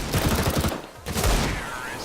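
Gunshots in the video game CS GO crack out in a rapid cluster, then another burst after a brief gap, dense and loud with a commentator's voice partly mixed in.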